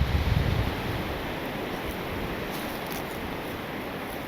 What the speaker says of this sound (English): This wind has been brutal.